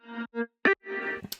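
A bright synthesized lead from Alchemy plays short sustained notes with gliding pitch and distorted, processed tone, then a brief percussive hit and a final high, airy blip.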